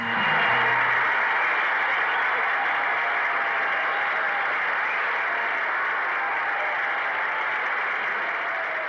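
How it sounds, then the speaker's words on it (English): Loud, sustained applause from a large crowd, a dense wash of clapping that holds steady for the whole stretch with only a slight fade. "He walked out to thunderous applause."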